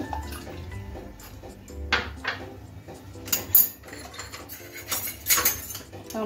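Sugar and salt being mixed into water for dhokla batter, with a spoon clinking and scraping against a metal bowl in irregular bursts, close up, with a faint watery swish and no talking.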